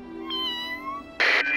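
A cartoon cat meows in a drawn-out, wavering cry with clear tonal harmonics, then a sudden loud burst near the end; no voices are heard.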